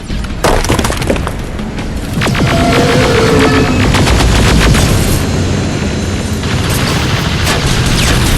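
Loud, dense gunfire in the video game Terminator Resistance: rapid repeated shots and crashing impacts over a constant heavy rumble and hum, close and continuous throughout.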